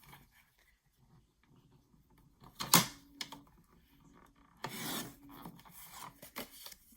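A paper cutter trimming about an inch off card paper for a mini greeting card, heard as a few quiet, brief scraping swipes and rustles in a mostly hushed setting.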